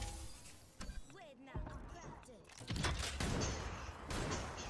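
Bursts of gunfire in the Apex Legends video game, clattering shots in several bursts mixed with other game noise, while people talk over them.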